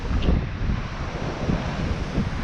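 Stormy sea waves surging at Blackpool on a windy day, a steady broadband roar of surf with heavy wind buffeting the microphone throughout, swelling slightly in places.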